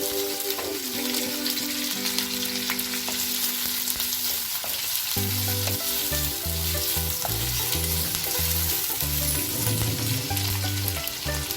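Green chilies frying in a pan for Hyderabadi paneer, a loud steady sizzle with scraping stirs of a spoon against the pan and no talk.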